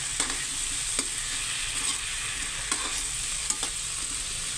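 Taro and shrimp cooking in a pan, a bright continuous sizzle close up with periodic spatula scrapes and light clinks against the pan, no voices.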